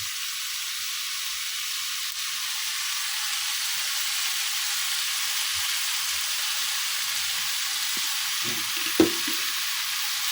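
Pork binagoongan frying in a pan as sliced green chili goes in, a steady close sizzle and hiss with a brief clatter near the end, no talking.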